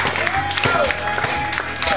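Scattered clapping from a festive Oktoberfest crowd mixes with someone talking over a microphone, the applause coming in uneven bursts beneath his voice.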